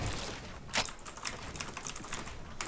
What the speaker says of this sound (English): You just hear the keyboard clicking like crazy.